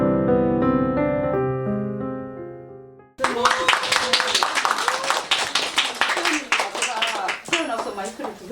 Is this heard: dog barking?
no